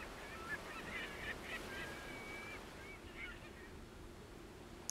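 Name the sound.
distant seagull or water bird cry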